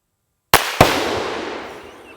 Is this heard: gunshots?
yes